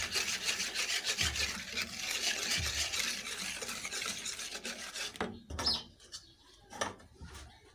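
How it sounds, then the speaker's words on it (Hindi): Gram flour and ginger-garlic paste being stirred into yogurt for kadhi pakora, a continuous close scraping and rubbing in a bowl that breaks into a few separate clinks and strokes near the end, with no talking. "इन सब चीज़ों को डाल के पहले हम दही में मिक्स करेंगे"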